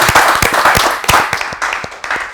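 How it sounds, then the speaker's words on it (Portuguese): A TV show studio audience claps in a short burst, with distinct close hand claps in an uneven rhythm over a background of broader applause. "Quero pedir uma salva de palmas pelas contribuições que aqui saíram."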